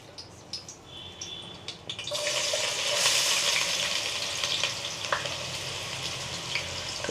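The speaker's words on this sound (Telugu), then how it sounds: "మంచిగా ఉల్లిగడ్డలు బ్రౌన్ కలర్ వచ్చే వరకు వేయించుకుందాం" Sliced onions drop into hot oil for a Telugu-style chicken fry and hiss into a loud, steady sizzle, with faint chirps from birds in the background.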